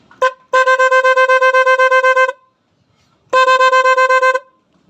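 A short blip, then two loud electric snail-horn blasts with a fast buzzing pulse from an interrupter on an e-bike, separated by a brief pause.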